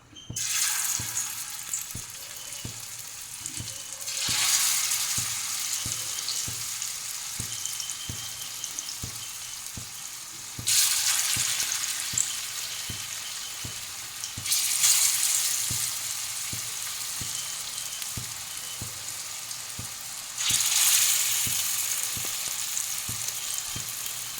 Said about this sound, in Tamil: இப்போ பொறிச்சு காட்டுறேன் உங்களுக்கு